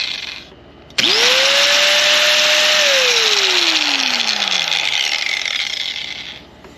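A Bosch professional angle grinder starts abruptly with a loud, close whine, runs steadily for a couple of seconds, then winds down with a falling pitch as the motor coasts to a stop.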